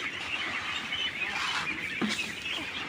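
A large flock of ducks, thousands gathered together on a farm, calls continuously at close range, a dense honking and quacking chorus with no talk over it.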